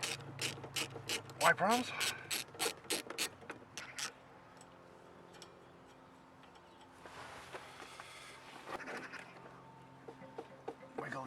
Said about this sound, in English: we're going to use a 13mm socket to undo the